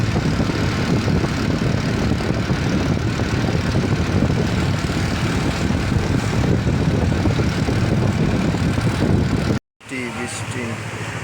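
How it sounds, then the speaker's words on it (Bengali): Heavy rain drums on a moving vehicle headed for Jamalpur, a dense, loud, steady roar of rain and road noise that cuts out briefly near the end before resuming slightly quieter. "ব্যাপক বৃষ্টি গাইস।"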